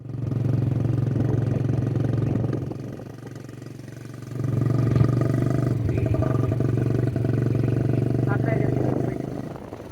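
A motorcycle engine drones steadily at close range, dipping briefly then surging again, with a voice talking over the ride.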